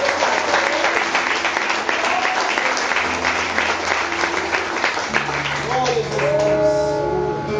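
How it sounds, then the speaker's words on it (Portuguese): A church congregation claps steadily in dense applause during a Portuguese-language sermon, with a voice rising over it near the end and sustained tones underneath. "Aplauda Jesus, irmão."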